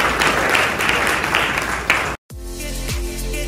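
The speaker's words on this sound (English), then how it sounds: "Give them another round of applause" Audience applause for panelists at a real estate business expo in Detroit, a dense steady clapping that breaks off abruptly partway through, followed by quieter room tone with low hum.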